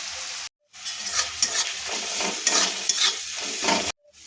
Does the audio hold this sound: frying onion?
yes